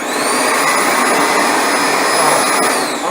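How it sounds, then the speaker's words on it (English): A Sanitaire commercial upright vacuum cleaner runs with a steady, loud whooshing roar and a high whine, unbroken throughout and with no voices. "you set it till you hear the pitch of the vacuum change"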